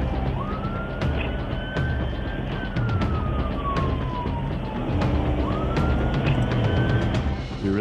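A police car siren wails through a chase, its tone sweeping up and down in long repeating cycles over a steady roar of road and engine noise, loud and continuous throughout.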